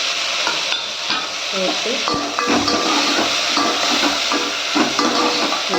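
Onions, tomatoes, green chillies and curry leaves fry for an anchovy fish curry. Oil sizzles continuously while a spoon scrapes and clinks against the pan in uneven strokes, close up, under a brief spoken word.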